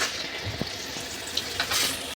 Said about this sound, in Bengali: ভাজা হোক। পরে আমি ছোলা বাদাম ছাড়ছি